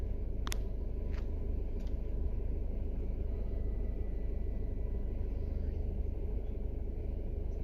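Inside a moving car, a steady low road rumble and engine drone runs throughout, with a few faint clicks early on and no talking.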